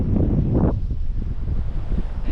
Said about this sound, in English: Wind is getting to be a little bit too rough for us.